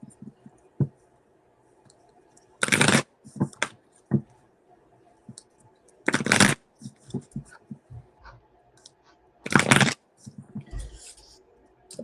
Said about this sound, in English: So let me shuffle for him